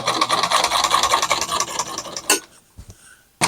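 A sewing machine stitches a non-slip backing onto an area rug with 100% cotton thread, giving a fast, close, steady mechanical chatter for over two seconds before stopping, followed by a few faint clicks.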